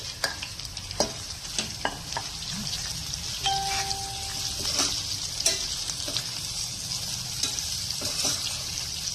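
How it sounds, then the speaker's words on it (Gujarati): Onions frying in oil with ginger-garlic paste for chole, a steady sizzle broken by frequent scraping and clicking as a spoon stirs the pan, close and clear with no talking. "થોડું સંતળાઈ જાય આ રીતે એટલે તેમાં હવે ડુંગળી ઉમેરી દેવાની છે."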